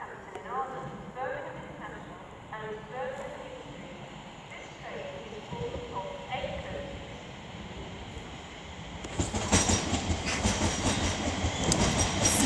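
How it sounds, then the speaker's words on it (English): A London Northwestern Railway passenger train on the West Coast Main Line at Coventry, first as a low rumble with rhythmic wheel clatter and squeals, then a loud broadband roar that swells toward the end as it draws near. "now approaching with the 1215 London Northwestern Railway service from London Euston to Birmingham"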